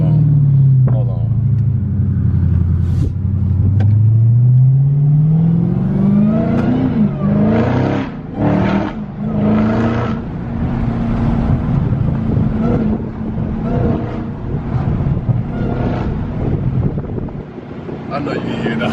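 Dodge Hellcat Charger with a Legmaker intake revving in a neighborhood, engine rumble rising in pitch with a supercharger whine, loud and close, with wind noise and people talking excitedly over it.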